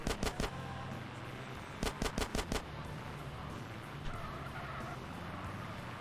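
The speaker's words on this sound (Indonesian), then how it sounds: "Wah yang nembak dia ya?" Bursts of automatic gunfire from GTA San Andreas, a quick cluster of loud shots at the start and another rapid volley of five or so near two seconds, over a steady game background with engine rumble.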